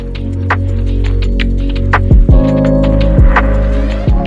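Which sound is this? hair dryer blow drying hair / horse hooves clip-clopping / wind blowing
hair dryer blow drying hair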